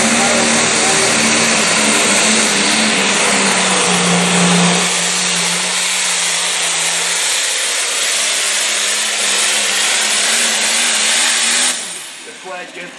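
An International light limited pro stock pulling tractor with a turbocharger runs loud and continuous at a tractor pull in Idaville, Indiana, its engine roaring and straining, then fading near the end.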